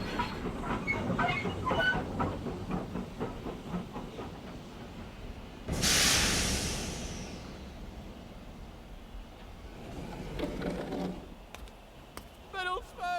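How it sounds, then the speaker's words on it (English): A steam train rattles along with rhythmic clickety-clack, then a loud hiss of steam bursts out as it slows into a quiet country station, followed by quieter rumbling and squeaks. "a train that was just pulling into a quiet country station."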